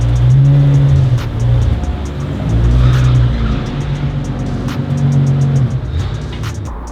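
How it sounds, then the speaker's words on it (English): A car pulls slowly into a detailing bay, its engine rumbling steadily at close range with occasional rises in revs and light tire noise, no voices over it. "pull my car in, and do the next one."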